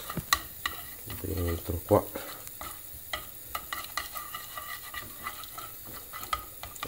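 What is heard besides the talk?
stirring ricotta with pasta water in a pan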